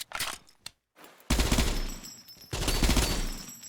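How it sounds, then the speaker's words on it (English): Weapons fire in a free tactical shooter game modeled on Rainbow Six Siege, with a few sharp single shots, a gap of silence, then two dense sustained bursts of automatic fire, loud and close. "I personally did not enjoy the gunplay or the sound of those weapons"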